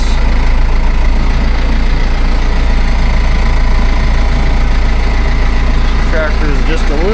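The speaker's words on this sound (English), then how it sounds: "Tractor is just a little bit bigger than my Kubota." A tractor engine, a bit bigger than a Kubota, runs steadily close by, a loud continuous low diesel rumble through the whole stretch with brief faint voice-like sounds near the end.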